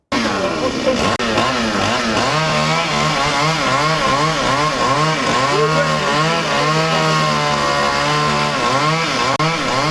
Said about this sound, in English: Chainsaw machines, busy cutting through branches of trees hanging out into the road.